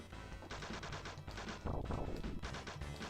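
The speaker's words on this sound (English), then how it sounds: "the explosions especially have that, yeah, kind of Genesis-y quality to it. The kind of fart explosions." Sega Genesis video game explosions, a run of crunchy, low, farty retro blasts in rapid bursts with a heavier boom near the middle, loud and continuous with no talk.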